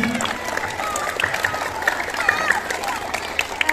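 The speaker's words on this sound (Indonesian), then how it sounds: "Kita kasih tepuk tangan dulu kepada adik-adik kita yang ada di depan." A school audience applauding elementary students honored for winning an abacus arithmetic contest. Brisk, even clapping fills the room with no break, while scattered voices murmur underneath.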